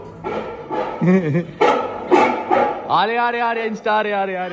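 A dog barks and yips repeatedly at close range while a man calls out excitedly over it.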